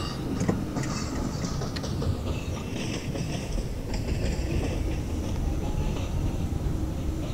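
A 71-407 tram car rolling on rails in the Trainz simulator, a steady rumbling run with faint rhythmic clicks and a high whine above, continuous throughout with no voices.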